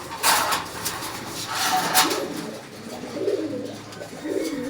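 A pair of Makra pigeons, a hen and a cock, coo softly and close by in low repeated murmurs, mixed with brief rustling bursts.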